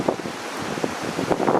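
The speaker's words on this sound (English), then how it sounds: "So the wind's proving problematic." Gusty wind buffets a microphone at a lakeside carp fishing spot, giving a rough, rushing roar that swells and fades in uneven bursts.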